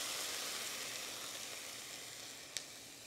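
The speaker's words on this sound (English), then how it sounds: "we're gonna go ahead and add in some white wine" White wine hitting a hot pan of sautéed sausage patties and links, giving a steady, close sizzle that slowly eases off, with one brief sharp pop near the end and no voices.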